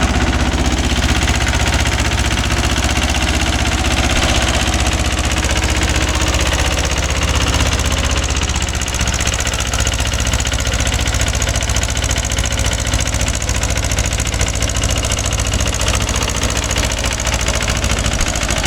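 A Mahindra 265 DI tractor engine pulls a 36-blade rotavator through a field, a loud, unbroken diesel roar with rough knocking throb, close and steady throughout.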